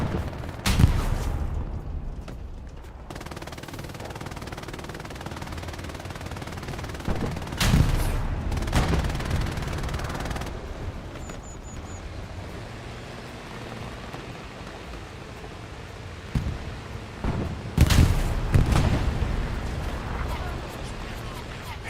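Tank battle on the El Alamein map in Hell Let Loose: loud bursts of cannon fire and explosions with rattling gunfire, separated by stretches of quieter distant combat noise.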